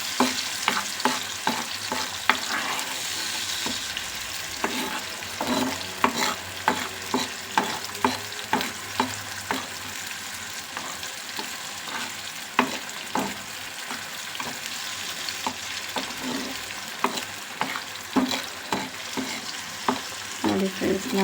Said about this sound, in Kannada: ಇದನ್ನು ನಾವು ಹಸಿ ವಾಸನೆ ಹೋಗೋವರೆಗೂ ಚೆನ್ನಾಗಿ ಹುರ್ಕೋಬೇಕು ಫ್ರೆಂಡ್ಸ್ ಆಯಿಲಲ್ಲಿ.